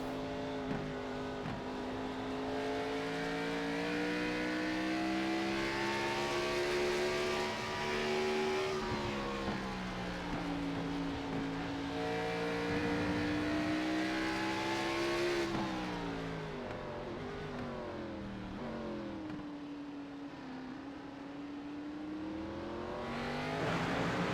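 NASCAR Cup race cars lapping Sonoma in iRacing, a steady loud engine drone that rises and falls with gear changes and throttle, with an onboard view from the 8 car amid a pack and no talking.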